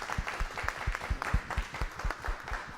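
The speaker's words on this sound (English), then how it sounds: "Let's give them all a round of applause for their amazing work." Applause from a conference audience after a panel: a few nearby hands clapping in a fairly regular rhythm, with lighter, more distant clapping behind, moderately quiet and with no speech.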